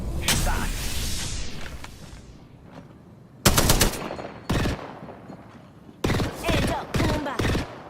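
Video game shootout with loud bursts of automatic gunfire, several separate rapid volleys near and sharp with short gaps between them.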